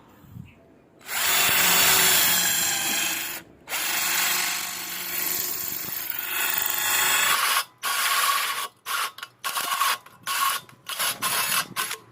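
An IMAX cordless three-mode drill, the kind that drives screws, drills wood and metal, and hammer-drills concrete, whirs loudly in a steady run, then breaks into short stop-start bursts toward the end.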